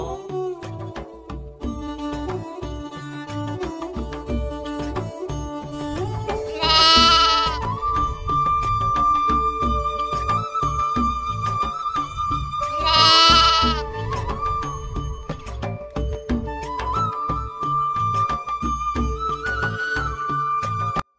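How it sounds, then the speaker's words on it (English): Goats bleat in a Sindh village in Pakistan, with two loud, drawn-out wavering cries standing out over a dense, busy background of other sounds throughout. "The baby goat is called a kid."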